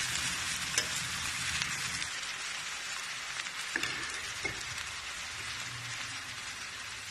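Shredded cabbage stirred with added spices in a hot pan, a steady rain-like sizzle with intermittent scraping clicks of the spoon, close and continuous without any voices.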